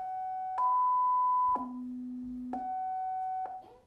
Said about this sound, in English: Speckled bubble bird alarm call.